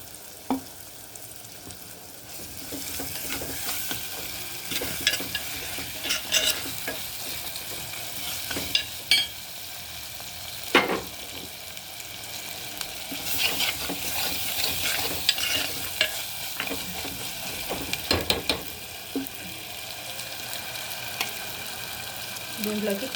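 Ginger garlic paste fries in hot oil in a pan for a chicken dish, giving a steady close sizzle with scattered clicks and scrapes of stirring throughout.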